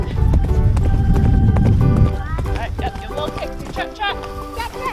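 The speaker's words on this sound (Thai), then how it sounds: "บังคับให้ม้าวิ่ง" A horse runs during a riding lesson in America, its hooves clip-clopping in a steady gait beneath loud, continuous chatter and cheering from people nearby.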